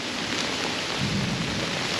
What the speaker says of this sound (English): I don't think we're gonna get a real hard rain, but it's just one of those summer thunder showers.